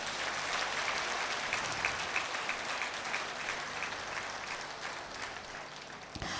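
An audience at a Telugu lecture event claps together in sustained, dense applause that holds at an even level for several seconds before ending abruptly.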